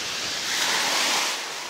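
Stormy sea surf breaking near the shore beside a parked KAMAZ 5320 truck, a steady broadband roar with a slight swell in the middle, mixed with wind buffeting the microphone, and no voices.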